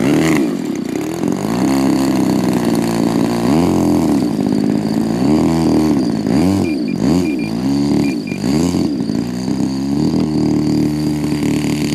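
Loud, steady drone of a 31cc Turnigy TP31-T twin-cylinder gas engine on a giant 2m Hangar 9 Ultra Stick RC model airplane, with rising and falling revs as it taxis close by on a runway.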